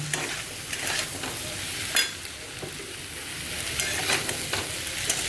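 Tomatoes go into a hot pan for a cauliflower curry, raising a steady, close sizzle of frying with occasional stirring scrapes and bursts of crackle.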